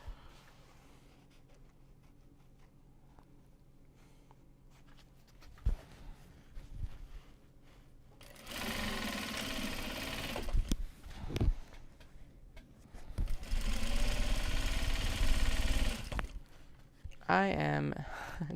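A sewing machine stitches Japanese fabric for a canvas project bag, running in two sustained whirring bursts of several seconds each, close up, after a stretch of quieter handling and light talk.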